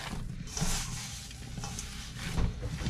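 Ingredients being stirred and mixed by hand while fresh ingredients are prepared in a home kitchen, a steady scraping swish with a couple of louder sweeps, close up with no talking.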